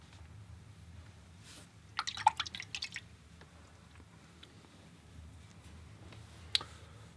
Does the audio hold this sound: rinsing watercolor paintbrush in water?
yes